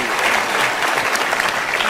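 Loud, continuous applause from a stand-up comedy show audience, a dense even wash of clapping lasting the whole short moment.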